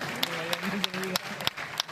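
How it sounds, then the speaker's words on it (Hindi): Scattered, uneven clapping breaks out in a Hindi kavi sammelan poetry audience, sharp individual claps standing out over a murmuring room with a voice briefly audible underneath. "इस बात पे महिलाओं की तालियां होनी चाहिए"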